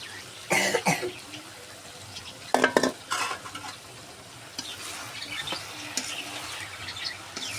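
Cauliflower and potatoes being stir-fried with vegetables in a pan, with soft sizzling under scraping and stirring strokes and a couple of louder bursts of clatter near the start.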